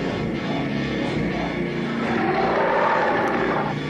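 A helicopter from the 1979 horror film Prophecy, a steady close rotor and engine drone that holds loud and unbroken throughout, with no voices over it.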